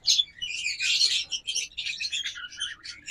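Caged closed-ring local-breed birds chirp in a dense, high-pitched burst of twittering, several calls overlapping up close with quick pauses.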